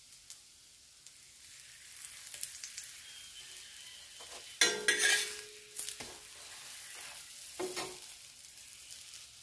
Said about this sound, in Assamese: এইফালে মই বনাই আছোঁ আলু ভাজি আৰু ৰুটি